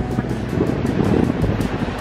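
Cold wind blowing hard at a seaside beach by a lighthouse at low tide, a dense continuous roar buffeting the microphone, with possible surf mixed in and no clear talk.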